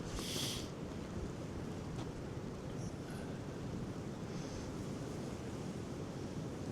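Clear creek water flows downstream on a winter nature trail, a faint, steady rushing wash that continues unbroken throughout.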